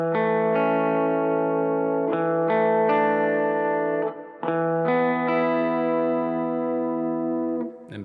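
Clean electric guitar with chorus and echo strums a slow I–IV–V progression of chord inversions, each chord sounded once and left ringing, clear and alone with brief gaps between changes.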